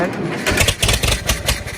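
A Farmall 400 tractor engine cranks without catching, a short loud rhythmic churning of the starter that pulses several times in under two seconds and is heard up close.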